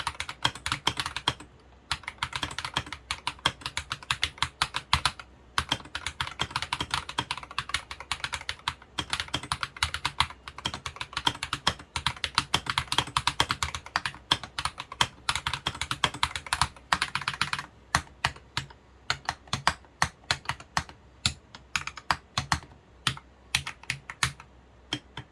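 Continuous clacky typing on a modified E-Yooso TKL mechanical keyboard, fast dense keystrokes close up, then slower scattered presses toward the end, with no voices.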